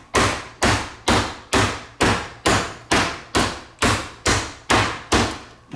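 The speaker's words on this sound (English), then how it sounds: "you can take either this meat mallet, or if you have a jar of some sort." A meat mallet pounds chicken cutlets flat in eleven heavy, evenly spaced thuds about half a second apart, each one loud and close with a short ringing decay.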